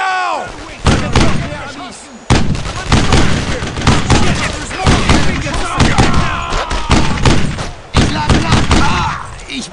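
Sustained suppressing gunfire in the World War II shooter game Brothers in Arms, with dense bursts, sharp rapid cracks and heavy impacts filling nearly ten seconds, loud and close, with shouted voices mixed in.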